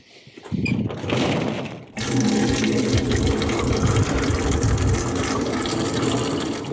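Water runs from a garden tap into a container, starting with a brief splash and then gushing steadily and loudly close at hand, with no voices over it.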